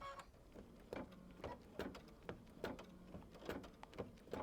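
A sewing machine stitches through thick layers of quilt fabric in quick, faint bursts of clicking needle strikes, with short pauses between runs.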